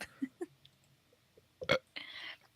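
A person burps into a podcast microphone: one loud, close belch stands out among soft mouth noises and faint murmured speech, followed by a brief breathy rasp.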